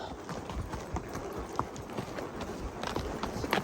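Horse hooves clop steadily at a walk on a rocky trail, the horse fitted with protective hoof boots, with continuous close footfalls over outdoor ambience.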